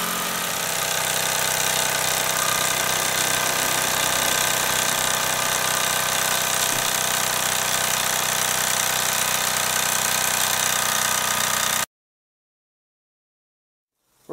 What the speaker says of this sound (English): Just goes to show how fast you've got to spin that dynamo to get some usable current